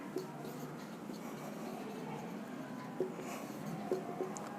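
Marker or chalk scratches across a board during a lesson, with soft rubbing strokes and a few sharper taps, quiet and close, with no speech.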